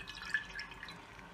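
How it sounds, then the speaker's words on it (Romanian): Water drips and trickles from a handful of soaked, softened gelatin squeezed out by hand in a kitchen while making a dessert with milk, sugar and cream, a faint, continuous wet patter lasting over a second with no speech. "O scoatem din apă și o stoarcem așa bine."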